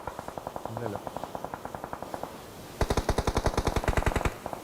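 Rapid automatic gunfire rattles in a battle royale video game, a steady burst of shots followed by a louder, denser stream of close fire, with no talking.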